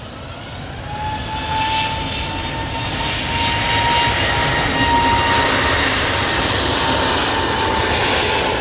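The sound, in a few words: Airbus A320neo from Munich arriving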